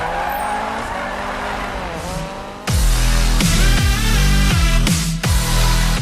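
A car in the Need for Speed racing game, set up for drifting, screeches through slides with loud, sharp tire squeal bursts over a revving engine, the game sound swelling abruptly partway through.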